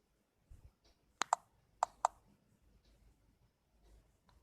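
A few soft, quick computer keyboard taps entering a spreadsheet IRR formula, a pair of sharper clicks and then another pair, in a quiet room.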